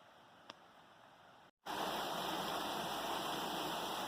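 Isinglass Falls in summer, a steady broadband rush of falling water that starts soft and distant, cuts out briefly, then returns much louder and closer as a constant roar.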